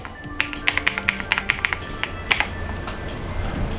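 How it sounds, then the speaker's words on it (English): Fingers tapping out a password on a portable gaming PC keyboard, a quick irregular run of about a dozen crisp, close keystrokes that thin out into quiet background. "so I can just type in the password."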